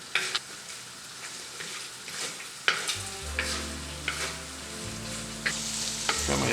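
Meat and carrots fry in a pot while being stirred: soft continuous sizzling with scrapes and knocks of the spoon, fairly quiet, and a low hum joining partway through.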